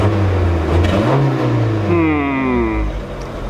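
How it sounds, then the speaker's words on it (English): A Volkswagen Golf engine with single-port fuel injection revs up loudly and close, the steady roar rising and wavering unevenly as it stumbles and breaks up before settling back. "Let's see if we can rev this car a little bit without it dying or breaking up"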